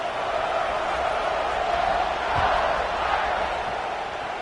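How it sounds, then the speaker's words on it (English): Stadium crowd in a college football video game, Alabama at Notre Dame, a steady, loud roar of cheering that swells slightly midway, broad and continuous with no clear breaks. "this crowd is feeling themselves after that last drive."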